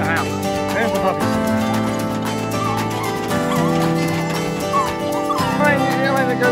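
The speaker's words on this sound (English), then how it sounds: "These are the puppies and they're the cutest thing." Puppies whimpering and yipping with high thin cries, mixed with a person talking nearby and some rustling.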